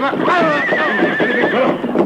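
A galloping horse whinnies as a radio drama sound effect, a loud wavering neigh over rapid hoofbeats, with a narrator's voice running beneath it.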